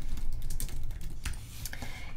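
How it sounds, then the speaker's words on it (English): Key presses on a computer keyboard during graphic design work in Illustrator, a quick run of close, crisp clicks and taps with no talking. "I'm gonna hit M on my keyboard for my rectangle tool"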